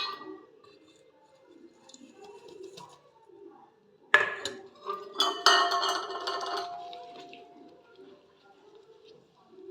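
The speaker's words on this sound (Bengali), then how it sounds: "ভালো করে এখন এইভাবে আমি এটা নাড়িয়ে নাড়িয়ে রান্না করে নেব" A utensil stirs fried bread paste into milk and caramel in a pan, giving scattered scrapes and metallic clinks that rise into a busier burst midway, with faint speech in the background.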